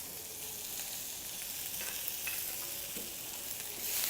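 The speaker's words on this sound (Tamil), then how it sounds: "இது போட்டு கிண்டணும்." Mint and coriander stirred into a frying pan for a no-onion, no-garlic biryani, giving a steady soft sizzle with light scraping strokes that run the whole time, close and moderately quiet, with no voices.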